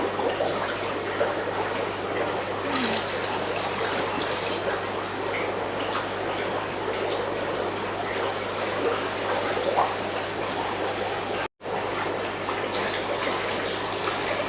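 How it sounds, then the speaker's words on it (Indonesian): Water pours steadily onto dolomite powder while preparing bioflok feed for water fleas, a loud, continuous, close splashing rush that runs unbroken apart from one momentary cut. "Sekarang kita akan seduh dengan air."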